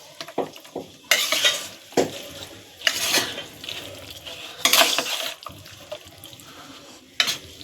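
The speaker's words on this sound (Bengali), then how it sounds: "মাংসটা মাখিয়ে নিচ্ছি দেখো বন্ধুরা মাংসটা আমি ভালো করে মাখিয়ে নিয়েছি" Mutton being worked into marinade in a bowl by hand: wet squelching and stirring with intermittent clinks and scrapes against the dish, irregular bursts close up, no voices.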